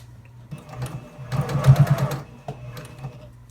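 A programmable sewing machine stitching a water bottle cover gives a short, close burst of rapid needle clatter between quieter pauses, with a few isolated clicks before and after.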